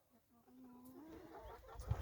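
Hens give soft, close clucks and a drawn-out murmuring call in a backyard coop, quiet and brief, ending with a sharp rustle.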